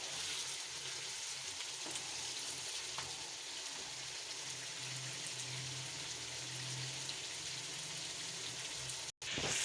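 Chicken pieces fry in a kadai with a steady, dense sizzle and crackle throughout, loud and close, with a low bubbling undertone and a brief dropout near the end.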